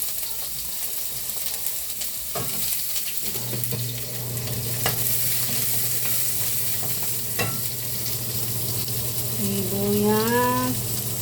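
Onions sautéing in a pan while someone cooks a home-style dish, with a loud continuous sizzle, occasional sharp scrapes of a utensil, and a low steady hum running through part of it.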